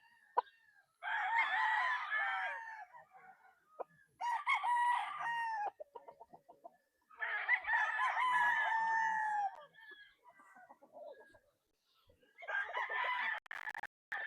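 A two-year-old steel sweater cross gamefowl rooster, white-legged with white ears, crows loudly and close four times in long drawn calls separated by short pauses, with soft clucks and noises in between.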